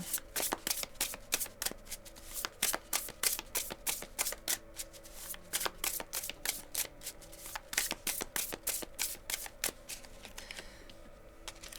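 Tarot cards being shuffled by hand ahead of a reading, a long run of crisp riffling bursts in an uneven rhythm, close and clear with no talking.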